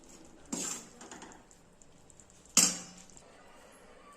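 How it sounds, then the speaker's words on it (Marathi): A spoon works melted jaggery into a sweet mixture in a pot, giving two separate bright metallic clinks about two seconds apart against quiet room tone. "चमच्याने मिश्रणामध्ये तो गूळ मिक्स करायचा आहे"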